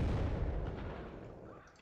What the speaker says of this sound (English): We will cluster bomb this thing right here